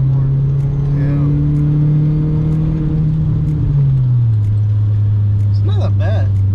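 A straight-piped 2000 Volkswagen 2.5 liter 20 valve turbo engine drones loud and close, its steady tone easing lower partway through, with voices talking near the end.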